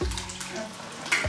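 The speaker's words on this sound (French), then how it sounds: "Je mets de l'eau." Water runs from a tap while breakfast eggs are being cooked, a short steady splashing rush that swells again near the end, with no talk.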